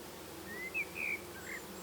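Honeybees buzzing around an open Dadant hive during spring colony inspection, a soft continuous drone with a few nearer, higher-pitched passes of individual bees.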